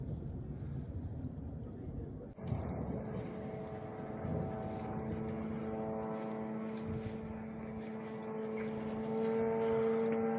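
A Shahed 136 drone approaches over Avdiivka during wartime, its engine a steady, buzzing propeller drone that grows louder. It rises out of background noise and muffled activity.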